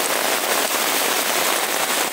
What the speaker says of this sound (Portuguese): Aqui debaixo de chuva,